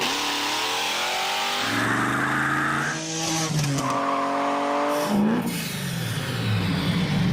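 A 1969 Datsun 240Z Trans Am race car accelerates hard, its engine note climbing through gears in rising sweeps with a brief shift dip and some tire squeal, loud and close throughout.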